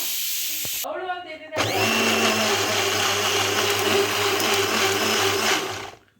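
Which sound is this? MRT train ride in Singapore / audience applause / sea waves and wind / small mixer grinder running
small mixer grinder running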